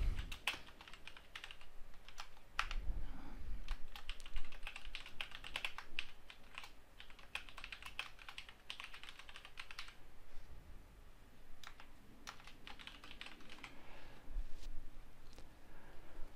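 Someone types an email on a computer keyboard, producing irregular bursts of quick, light key clicks with short pauses between them, close and fairly quiet.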